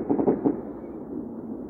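New Year fireworks salute going off outdoors in a residential area: a cluster of muffled, rumbling booms and crackles in the first half, then a steady distant rumble that lingers to the end.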